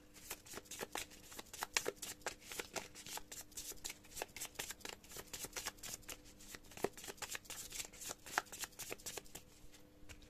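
Playing cards are shuffled and cut by hand, a rapid run of soft crisp riffling clicks repeating close up and fairly quietly.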